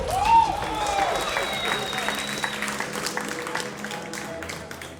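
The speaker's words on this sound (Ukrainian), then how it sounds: "Оплески йому." A crowd at a bare-knuckle fist-fighting event applauds a fighter, steady clapping with a few shouts and whistles over the mix.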